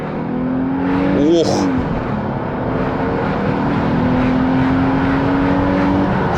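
Infiniti FX35 SUV with a 3.5-litre engine pulling hard under acceleration, a steady loud engine drone with rising whine from inside the cabin, and a man's brief exclamation over it.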